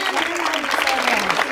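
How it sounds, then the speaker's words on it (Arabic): An audience claps warmly for a five-year-old girl who recites the Quran, a short continuous wash of hand claps with a voice faintly heard under it. "عايزين تصفيق ليها كبير خالص"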